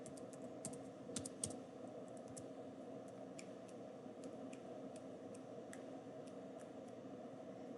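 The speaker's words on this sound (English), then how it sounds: "Now let's test out our keyboard. I'm able to press every key now." Keys on a computer keyboard are pressed in quick irregular clicks, some in fast runs, faint and close over a low steady room hum, with no talking.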